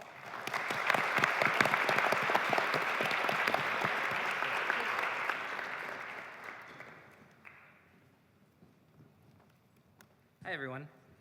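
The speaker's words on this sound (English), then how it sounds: "everybody give them a round of applause" Audience applause at a university programming tournament final, loud and dense for about six seconds, then fading to quiet, followed by a brief voice near the end.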